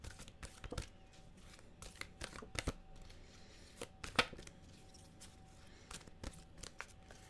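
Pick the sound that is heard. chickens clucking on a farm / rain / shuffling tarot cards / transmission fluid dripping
shuffling tarot cards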